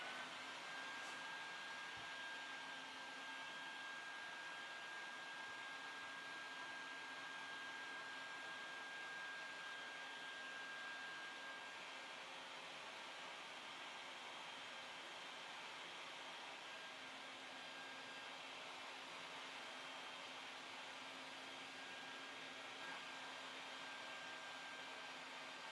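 A homemade bee vacuum with a vent to soften its suction runs continuously, a steady loud airy whoosh with a faint whine, unchanging throughout with no talk.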